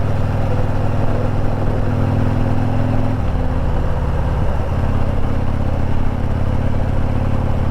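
A Harley motorcycle rides on an early-morning road, its engine a loud, close, continuous rumble that briefly drops in pitch midway, as if shifting, then carries on steadily.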